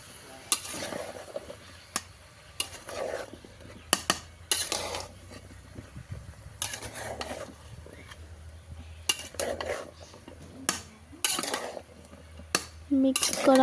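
Bottle gourd being stirred into a village-style shing fish curry in a pot, with repeated metal spoon scrapes and clinks against the pot over a soft sizzle, heard close up with irregular pauses between strokes.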